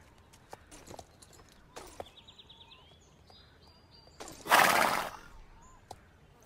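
Belgian Warmblood horse in a video game, soft clip-clop hoof steps and small clicks followed by one loud, close whinny, then quieter steps; faint chirps sit in the background and no one speaks.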